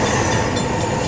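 A freight train rolls past on rails, a loud, steady, close roar of wheels and cars that fills the whole moment without a break.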